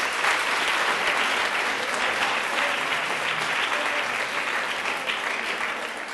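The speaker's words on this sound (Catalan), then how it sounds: "Un aplaudiment, sisplau." Steady, full applause from a studio audience at a word-spelling quiz show, a sustained wash of clapping that tapers slightly at the close.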